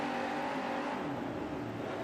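Monster trucks race side by side into the final turn of a stadium course in Anaheim, a loud, continuous engine roar with a falling pitch sweep as they pass.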